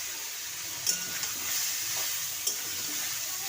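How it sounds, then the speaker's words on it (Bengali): Carrot and beetroot frying in oil in a karahi, giving a steady close sizzle and hiss with a couple of brief scrape or stir clicks. "এখন দিয়ে দেবো এই যে গাজর আর বিট তেলের মধ্যে"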